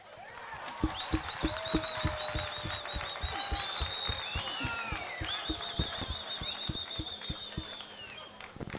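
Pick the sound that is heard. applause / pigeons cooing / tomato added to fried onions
applause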